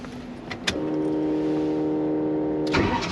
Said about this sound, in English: fires up like that every single time. Just barely turns over. Has an awesome sound out of the dual exhaust.